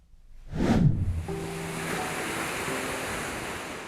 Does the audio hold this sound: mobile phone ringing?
no